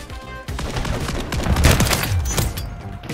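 Rapid bursts of gunfire from a Call of Duty MW3 match, with sniper and automatic shots cracking close and loud in a dense, overlapping volley for about three seconds.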